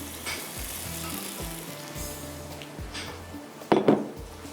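Eggs and potatoes cook in a pot for an egg pulao, with a steady sizzle and a few light metal clinks of utensils, ending in a louder clatter, no talk.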